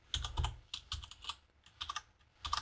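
Close keystrokes on a computer keyboard while coding PHP, irregular bursts of clicky taps with short pauses between groups, moderately quiet and alone.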